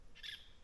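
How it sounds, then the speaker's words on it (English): Birds calling faintly out in a Jamaican backyard farm, a brief high chirp standing out against quiet open-air background. "Bird them are coming in there."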